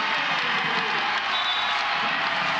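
A packed women's college volleyball arena crowd cheers and applauds steadily after a big point in a Purdue vs Kansas match, a broad, continuous roar.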